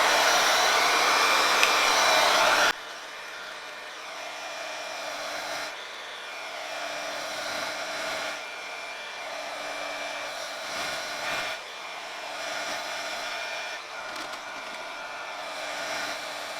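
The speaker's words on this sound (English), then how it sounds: "next thing we're going to do is use a heat gun" A heat gun blows steadily to shrink plastic wrap onto a tumbler, a continuous airy roar that is louder for the first few seconds and then settles to a lower, even hiss.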